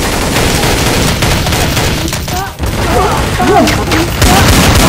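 Rapid gunfire in the video game Counter-Strike: Source, loud dense bursts of automatic shots that keep going through the clip while someone shouts and talks over them.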